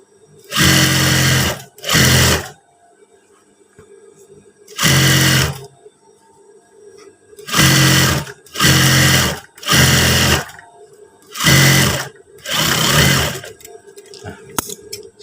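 Close, loud sewing machine stitching along a trouser hem at the fold, running in a series of short bursts of roughly one second each, separated by brief pauses.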